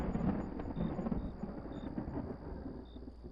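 A thunderstorm with rain and wind rumbles as a horror story sound effect, a low continuous roll of thunder under a faint rain hiss, steady and fairly subdued over a few seconds.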